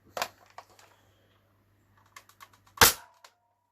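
An X Shot Pro Series Longshot dart blaster handled with small plastic clicks and rattles, then one loud, sharp firing snap near the end.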